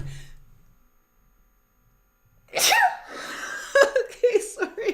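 After a quiet pause, a single sharp sneeze bursts out close by, followed by breathy gasps and a few vocal sounds.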